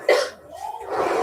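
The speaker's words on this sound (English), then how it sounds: "I respect that, but that cough looks pretty bad" A single sharp cough in a Robitussin cough syrup commercial opens the moment, followed by a short strained vocal sound and murmured voice.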